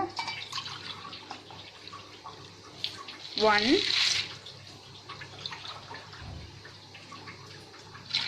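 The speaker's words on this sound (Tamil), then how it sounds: "நான் 2 டம்ளர் தண்ணி விடுறேன்" Two tumblers of water splash and pour briefly into a pressure cooker, a short gurgling burst amid quiet kitchen background and a single spoken word.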